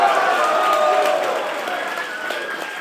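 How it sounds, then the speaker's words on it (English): A young rally crowd cheers and claps in a broad, roaring burst that gradually tapers off over a few seconds, with no distinct voices standing out. "Cheer if you're under the age of 25."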